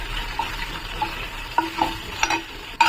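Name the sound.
mustard seeds and green chillies frying in a pan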